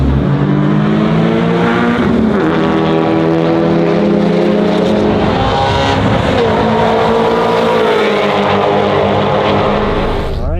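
Honda Civic FK8 Type R driven hard on a race track on a cool day: a loud, close engine roar that stays constant through the whole stretch, its pitch rising and falling as the car accelerates through gears.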